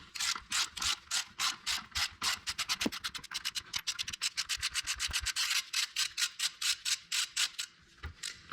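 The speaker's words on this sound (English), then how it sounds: "And then you try with your ratchet as far as you can go." A ratchet cranks on the rear brake of a Toyota Sienna, a close, crisp train of rapid clicks in quick rhythmic bursts that briefly speed up before slowing again, with no talking over it.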